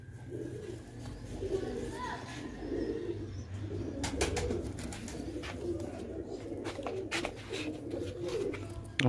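Pigeons of a high-class breed, including black-faced birds, coo steadily and close by over a low constant hum, with occasional short bird chirps and rustles mixed in.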